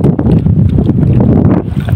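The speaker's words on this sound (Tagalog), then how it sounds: "Medyo malakas yung hangin." Strong wind blows at sea near a fish trap, a loud, steady roar buffeting the microphone with rumbling gusts and no pauses.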